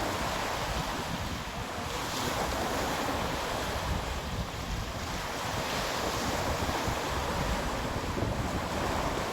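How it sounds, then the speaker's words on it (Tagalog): Strong waves crash at a beach on Manila Bay under gusty wind, making a dense, continuous roar of surf with heavy wind buffeting the microphone throughout. "ang lakas ng alon"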